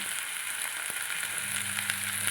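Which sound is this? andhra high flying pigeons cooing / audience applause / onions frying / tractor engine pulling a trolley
onions frying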